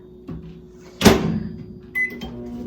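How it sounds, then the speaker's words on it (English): A shaky microwave oven in a home kitchen rattles with a sharp loud clatter around the middle, followed by a steady hum and a second brief knock, heard close up with no talking. "Oh, the microwave's like shaky."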